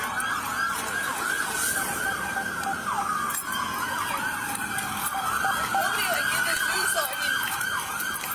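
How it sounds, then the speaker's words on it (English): Emergency vehicle sirens wail continuously, their rising and falling tones overlapping at steady loudness amid road traffic noise. "You hear all the lights and sirens?"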